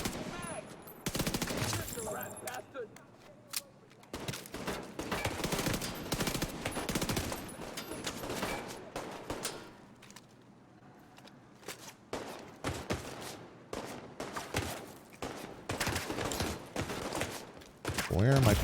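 Bursts of automatic gunfire and scattered single shots crackle almost nonstop in a firefight from The Division 2 video game, with footsteps and game noise between the volleys.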